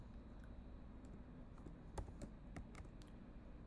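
Computer keyboard typing at a quiet level, a sparse run of individual key clicks with one sharper, louder keystroke like an enter press.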